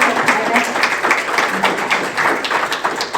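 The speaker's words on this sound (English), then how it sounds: "I think they each deserve a round of applause just for being willing to put themselves out there" Audience applause at a ranked choice voting event featuring congressional candidates, a steady wash of many hands clapping at moderate loudness with a faint voice underneath.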